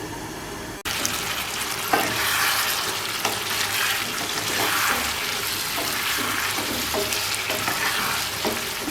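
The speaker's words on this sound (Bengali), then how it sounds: "আবারও তরকারিটা নেড়ে দিলাম" Hilsa fish curry with potato and brinjal stirred in a pan: a lid lifts off, then a steady sizzle of bubbling liquid runs throughout with repeated scraping stirs, close and without voices.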